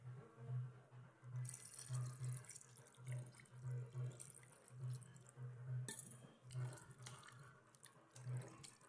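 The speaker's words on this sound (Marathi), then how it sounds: "मस्त बाकी स्वच्छ पाण्यामध्ये धुवून घेऊ" Running tap water splashing into a sink as something is rinsed clean, a steady faint wash with intermittent splashes and low clunks, close by and quiet.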